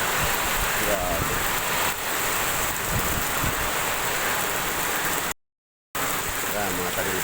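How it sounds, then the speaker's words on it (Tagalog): Steady heavy typhoon rain with strong wind roars without a break through banana trees and felled trees, cutting out briefly near the end before returning. "Lakas ng bagyo dito. May kasamang hangin."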